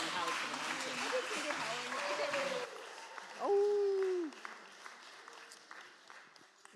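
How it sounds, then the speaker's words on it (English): An audience applauds after a song at a live show, a dense wash of clapping for about three seconds that then thins out as a voice and tonal sounds take over. "One more round of applause."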